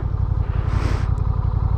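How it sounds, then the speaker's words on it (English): A motorcycle engine idles steadily nearby with a low, even pulsing throb, no revving, while the bike creeps forward without throttle. "Couple of steps, feet up, and the bike will just idle."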